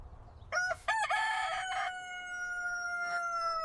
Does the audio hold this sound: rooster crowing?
yes